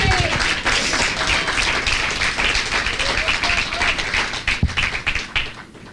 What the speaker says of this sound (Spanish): Dele ese aplauso al Señor en esta mañana